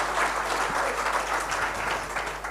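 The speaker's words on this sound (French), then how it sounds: "Ça s'applaudit, ça." An audience applauds steadily for a couple of seconds, a dense even wash of clapping with no voices over it.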